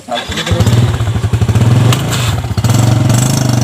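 A motorcycle engine starts and revs loudly up close, chugging in rapid pulses, dipping briefly, then roaring again.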